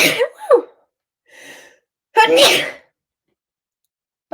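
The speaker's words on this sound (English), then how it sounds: "I am about to sneeze." A person sneezes loudly twice, with a quieter sharp breath between, each burst close and abrupt against silence.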